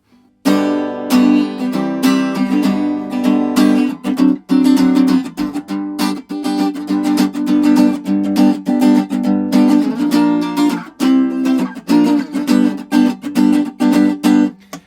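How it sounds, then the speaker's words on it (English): An acoustic guitar plays a steady picked and strummed pattern, close and clear, recorded in stereo with an AKG C414 XL II microphone, with no voices. "So I've got my guitar here,"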